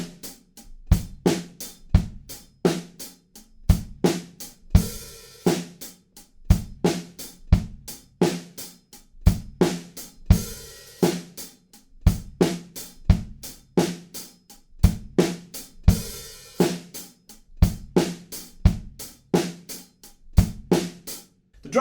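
Drum kit groove with a sizzling hi-hat opening into steady 8th notes, accent on the second of each pair, alongside regular heavier hits, crisp and close for about twenty seconds without speech.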